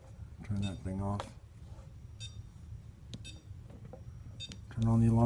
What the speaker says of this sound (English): Turn on the alarm test.